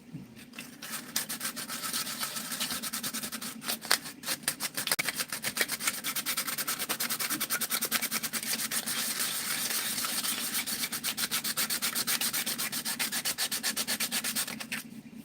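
Hand sanding on a 3D printed Godzilla 1955 puppet bust makes a close, continuous gritty rasp of rapid back-and-forth strokes that runs steadily for the whole stretch with only brief breaks.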